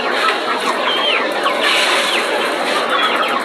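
A crowd of poultry-farm chickens clucks densely and continuously, many overlapping loud calls close by with no pause.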